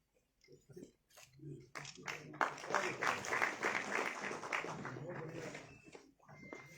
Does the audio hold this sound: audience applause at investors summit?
yes